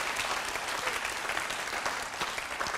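Audience applause at a talk on global austerity policies, inequality and health, a steady wash of clapping from a seated crowd that stays moderately loud and even throughout.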